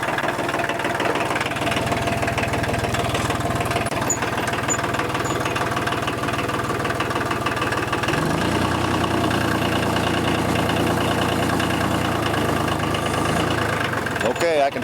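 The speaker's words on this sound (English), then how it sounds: "Okay, I got the tractor running." A tractor engine running at idle, a steady low mechanical chug with a rough knocking pulse that shifts in pitch partway through as it works, loud and close throughout.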